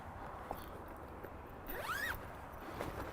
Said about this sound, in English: Zippers on both sides.